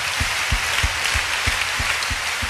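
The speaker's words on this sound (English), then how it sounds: "A big clap offering to Jesus." Church congregation claps together in a steady, even rhythm of single loud claps, roughly one every third of a second, over a dense wash of crowd noise and worship ambience.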